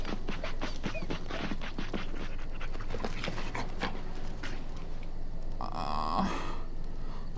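A dog in the fantasy role-playing game Dragon Age Origins pants in quick, rhythmic huffs with a few grunts, close and clear, followed by a brief higher whine near the end.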